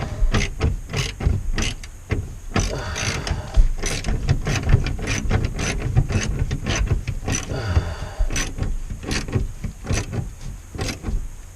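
A ratchet tightens bolts in a close, rapid series of clicking, grinding strokes that run without pause, loud and near, with no talking.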